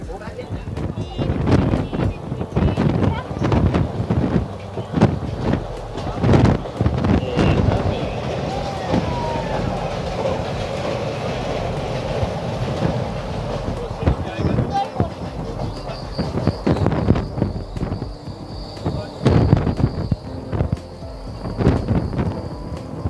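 Doon Express passenger train running at about 100 km/h after leaving Varanasi Junction, a steady loud rumble with wind buffeting and rhythmic wheel clatter, with a person talking over it throughout.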